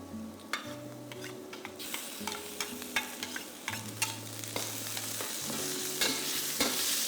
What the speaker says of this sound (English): Saute the onions till they are golden brown. Add in the ginger and garlic.